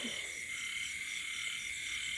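Frogs in a rice field at night after heavy rain keep up a steady, continuous croaking chorus, fairly faint and distant, with no voices.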